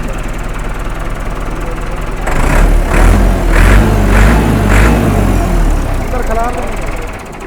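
A 2003 Massey Ferguson tractor with a Perkins engine and Stanadyne injection pump idles close by in a steady low rumble, briefly pulsing louder midway, with people talking over it.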